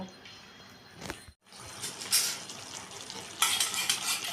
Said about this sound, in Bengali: এটা কিন্তু কি সুন্দর ফুটছে